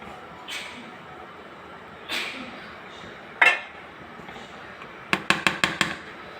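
Finger millet flour stirred into boiling water in a pot: a few soft scrapes, then a quick run of five sharp utensil clinks against the pan near the end, close by and moderately loud.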